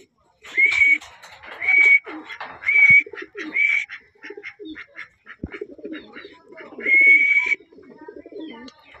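Racing pigeon cooing in a loft as a bird arrives home from a race released at Karanglan, Nueva Ecija: repeated short whistling coos at a steady rhythm, close and clear, with soft rustling and shuffling beneath.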